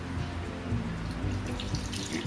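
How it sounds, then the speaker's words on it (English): Water runs steadily from a tap over fresh chenna being rinsed for Bengali rasgulla, a continuous splashing pour in a kitchen sink with light drips. "Now add some water"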